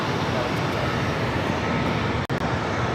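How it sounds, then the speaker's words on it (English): An SAS airliner takes off on runway 25 right at Los Angeles International Airport, heard as a steady, loud, dense jet roar with one brief dropout. "SAS now rolling down 25 right"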